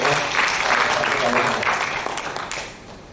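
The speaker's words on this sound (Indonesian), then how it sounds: "Silakan berikan tepuk tangannya kepada Mas Reko" Audience applause at a cultural event celebrating Bugis heritage and the I La Galigo tradition, a broad wash of clapping that gradually fades, with a voice speaking faintly underneath.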